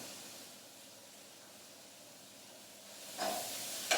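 Finely chopped vegetables hit a pan with a little rapeseed oil near the end, a sudden loud hiss bursting over a steady low background hiss after a quiet stretch.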